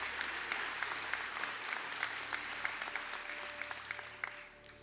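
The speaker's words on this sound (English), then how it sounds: "And please give Stephen a round of applause." Steady applause from an audience at a college graduation conferring ceremony in Sligo, moderate and somewhat distant, with scattered sharper claps over a continuous wash and no talk.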